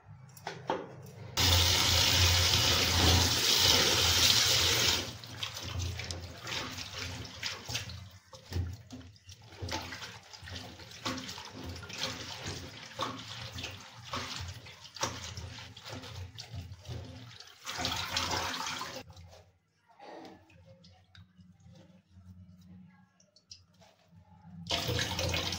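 Hill spinach leaves are washed under running water from a tap: a gush of flowing water comes first, then quieter intermittent splashing and trickling at close range.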